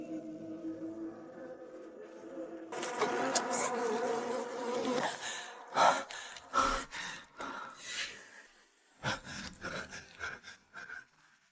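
Insistent buzzing of bees swarming around wooden beehives at a bee farm, dense and close at first, then breaking into uneven bursts with breathy gasps mixed in.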